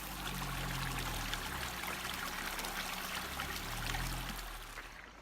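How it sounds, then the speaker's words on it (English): A river flowing across a road gives off a steady, soft rushing and trickling of water that carries on without a break, moderately close and fairly quiet, with no voices over it. "The river's gorgeous, isn't it?"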